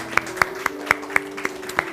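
Applause at a church youth service comes as a rhythmic round of sharp, evenly spaced claps, fairly close and moderately loud, with a steady tone humming underneath and no speech.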